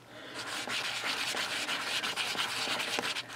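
A polymer clay egg is sanded by hand, giving a quiet, close, continuous rubbing rasp with rhythmic back-and-forth strokes and small scratchy ticks.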